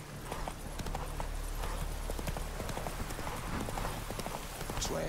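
Roach, the horse from The Witcher 3: Wild Hunt, clip-clops in a brisk, steady gait, hoofbeats close and continuous over a low ambient game background.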